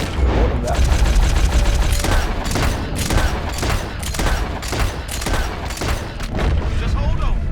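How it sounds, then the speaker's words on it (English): Rapid gunfire in Red Dead Redemption 2 during an alligator attack on a boat: a dense fusillade of overlapping shots and booms runs continuously and loud, with speech mixed in. "Keep shooting."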